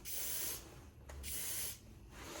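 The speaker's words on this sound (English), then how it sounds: "Seems like a nice spray." A Triumph Tiger 1050 motorcycle fuel injector, removed from the throttle body, fires fuel through its nozzle in two close hissing bursts with a brief spurt between them.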